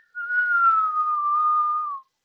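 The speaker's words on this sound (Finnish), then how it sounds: "Sisähengitys on vihellys sisään." One sustained whistling inhale through pursed lips during Kundalini yoga breathing, a single clear steady tone lasting about two seconds, slightly falling at the end, alone in silence.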